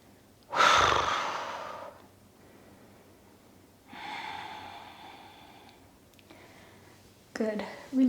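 Deep yoga breaths close by: a strong nasal inhale, then two longer, softer exhales, with a sharp intake at the end.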